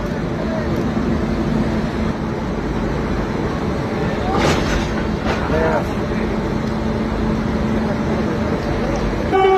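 Rail yard noise as a replacement locomotive couples to the Sairang Express after its engine broke down, steady rumble of idling diesel and rail sounds with brief metallic clanks and screeches midway, people talking in the background.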